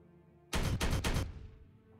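Gunfire in the Warhammer 40K Regicide video game, a loud close burst of three rapid blasts in quick succession, then a ringing decay into quiet.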